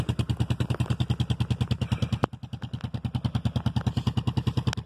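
A motorcycle engine idles to warm up on a cold day. Close, loud, evenly spaced putting beats continue throughout, broken only by a brief click partway through, with no talking.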